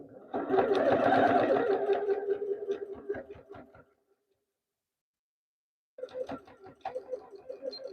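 A sewing machine stitching purses runs in a dense, rattling burst that trails off into a few ticks, falls silent for about two seconds, then starts up again with a quicker, clattering rhythm.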